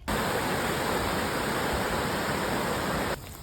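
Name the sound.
river flowing near marae, Tahiti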